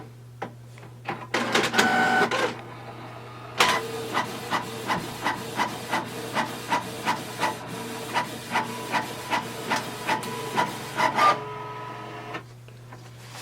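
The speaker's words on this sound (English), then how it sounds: "So it's going to copy and print." A Canon TS3120 inkjet printer copies and prints a page, running a steady mechanical hum beneath a long series of evenly spaced clicking ticks as the paper feeds through, with a few louder whirring bursts at the start and the end.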